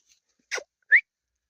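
Two short, high-pitched puppy yelps or whimpers, close by, separated by a brief pause against silence.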